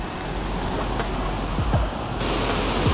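Steady broadband roar of water rushing over a waterfall, heard from just above the cascade, continuous and fairly loud with a gusty, wind-buffeted texture and no voices.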